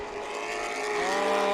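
Race cars at Irwindale Speedway roar past with rising engine tones, a loud continuous mechanical drone that builds over a brief stretch.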